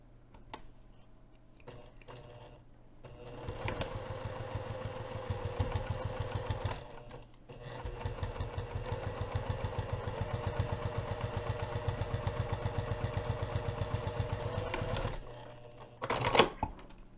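A sewing machine top stitches a zipper pocket on a bag in rapid, steady bursts, running for several seconds at a time with brief pauses between runs, close and clear with no talking.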